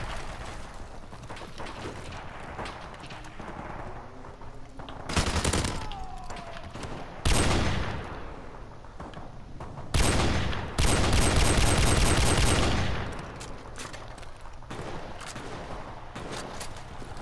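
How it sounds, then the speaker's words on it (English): Suppressed mini Uzi fire in Call of Duty Modern Warfare Remastered: several short, muffled automatic bursts, the longest lasting about two seconds, over quieter game ambience with mechanical clicks between them. "This is a suppressed mini Uzi."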